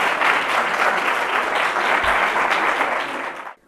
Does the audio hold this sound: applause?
yes